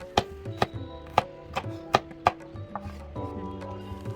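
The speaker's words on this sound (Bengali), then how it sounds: "পেঁয়াজটাও আমি কুচি করে নিচ্ছি।" A knife chops onions on a cutting board for spinach pakora, giving about seven sharp, close knocks at an uneven pace with short gaps between them.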